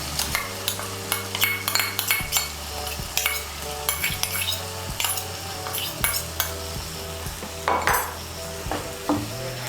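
A paste of ground cashew, poppy seed and melon seed is stirred and fried in oil, with a rhythmic series of spoon scrapes and taps against the pan over a light sizzle, close and without talking.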